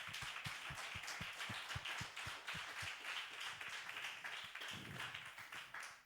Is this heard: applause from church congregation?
yes